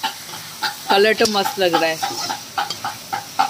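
Onion, ginger and chilli sizzling and being stirred in a hot pan in an office lunch setting, with crackling frying bursts and scraping stirs under brief casual talk.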